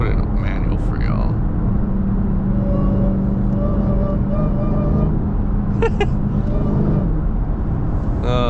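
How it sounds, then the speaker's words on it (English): A Dodge Hellcat in street mode drives through busy traffic, its engine whine rising and falling in pitch above a heavy, steady road rumble, with a voice talking over it at times. "The whine never gets old."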